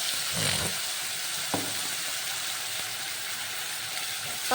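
Whole cumin, dried chillies, cloves, cinnamon and a ground masala paste frying in mustard oil: a steady, loud, close sizzle throughout, with a few brief stirring scrapes and no talking.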